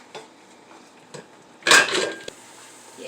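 A lid set onto a pot of oxtail stew in a kitchen: one sharp metallic clank with a short rattle, then a small tap, against quiet background clatter.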